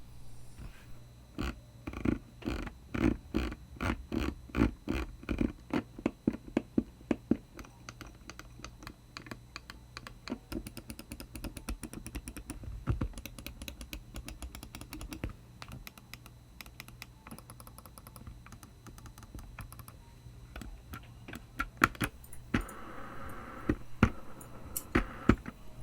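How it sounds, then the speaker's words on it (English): Close, sharp clicks from a Logitech G502 Lightspeed wireless gaming mouse, fast bursts of rapid clicking at first, then more scattered single and double clicks with light handling noise, no talking. "let's go ahead and listen to the sounds of the mouse"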